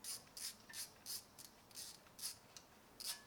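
A ratchet fitted with a 10 mm socket clicks in a quick rhythmic series of strokes, about nine pawl bursts in a row, while undoing the ABS wheel speed sensor bolt on a Volvo S60R, close and fairly quiet.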